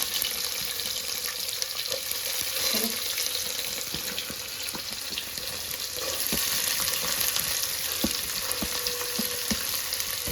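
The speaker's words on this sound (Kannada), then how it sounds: "ಮೇಲೆ ಈರುಳ್ಳಿ ಹಾಕ್ತಿದ್ದೀನಿ." Onions go into a pan for a palak sprouts dal, hissing and sizzling steadily with scattered clinks and stirring taps from a spoon, close and fairly quiet, with no talking.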